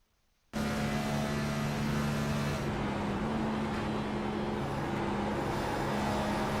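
After a brief silence, a loud NASCAR stock car engine roars from onboard on the Indianapolis road course, its droning pitch stepping down as it downshifts.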